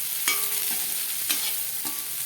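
Spice powders are stirred into a sizzling capsicum and onion curry in a pan, a constant close frying hiss with a few sharp scraping strokes of the spoon.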